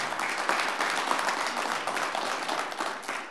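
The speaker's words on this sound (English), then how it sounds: "Let's give Audrey one more round of applause." A school board meeting audience gives a steady, dense round of applause, many hands clapping together indoors for the whole stretch with no pause.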